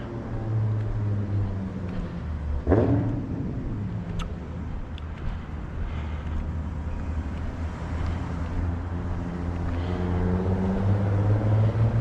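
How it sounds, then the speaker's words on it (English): A car engine rumbles on a warm night street with a broken street light, a steady low drone with a brief surge partway through and a slight rise toward the end, fairly distant and without talk. "somebody revving the motor"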